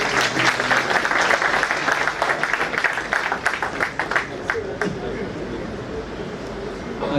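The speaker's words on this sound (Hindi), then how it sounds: "Please तालियों से स्वागत करें सर।" An audience applauds to welcome a speaker at an Independence Day event held by a Delhi bar council. The steady, dense clapping fills the room and thins out toward the end.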